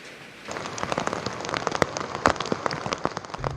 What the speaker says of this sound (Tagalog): Magdamag nang may mga pag-ulan simula kagabi.